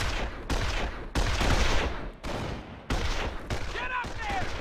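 Rapid bursts of gunfire from enemy soldiers in the World War II strategy game Company of Heroes crackle steadily through the battle, with shouting voices mixed in and no clear pauses.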